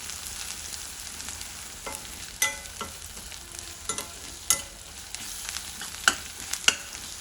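Pieces of wild gourd fry in a pan with garlic-ginger paste, giving a steady, moderate sizzle broken by occasional sharp utensil clicks and stirring scrapes.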